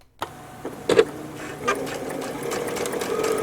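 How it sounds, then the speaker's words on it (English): A sewing machine stitches a quarter-inch seam around the edge of a small fabric bag for embroidered snowballs, starting after a click with a steady, close mechanical whir that builds and runs continuously. "all I'm going to do is sew around here, and the idea is to keep that 1/4 inch edge there"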